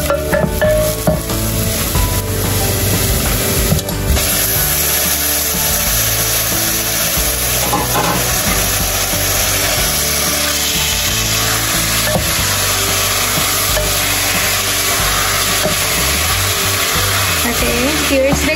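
Ground beef frying with caramelized onions in a pan, a steady close sizzle with scraping stir strokes running throughout, background music underneath.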